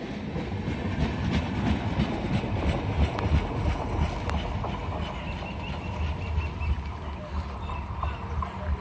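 A 21-coach Sealdah–Jalpaiguri Road Humsafar Express crosses the Nashipur rail bridge in Murshidabad, a loud, steady rolling rumble with rattling wheel clatter that lasts throughout.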